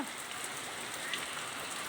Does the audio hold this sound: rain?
yes